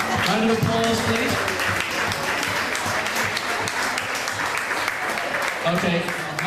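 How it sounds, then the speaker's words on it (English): Guests at a wedding party clap together in a steady, dense burst that runs the whole time, with chatter and voices mixed underneath. "Round of applause, please."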